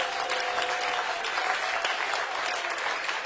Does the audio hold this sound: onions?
no